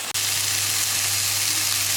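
Brussels sprouts simmer and sizzle in a pan with a little water and agave syrup, a steady close frying hiss with a low hum beneath, no talking.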